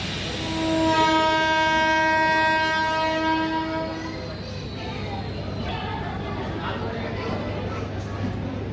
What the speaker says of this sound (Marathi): डॉट ऑन टाईम 8:15 आपली परळी सांगली डेमो निघालेली आहे परळी वैजनाथ रेल्वे स्टेशनवरून.